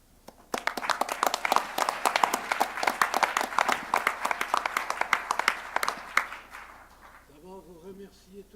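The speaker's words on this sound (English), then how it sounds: "please give them a round of applause." An audience at an annual general meeting bursts into loud, sustained applause with sharp individual claps, dying away near the end as a voice begins speaking.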